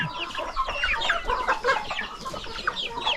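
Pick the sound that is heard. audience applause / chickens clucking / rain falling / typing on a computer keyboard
chickens clucking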